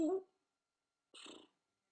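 A voice imitates an imagined instrument made of string stretched between milk bottles and struck with a twig, giving two short vocal bursts separated by a pause.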